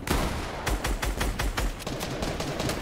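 Gunfire in a Fortnite trio cash cup match crackles as a loud rapid burst of repeated shots, closely spaced and steady, then continues more sparsely, with no talk over it.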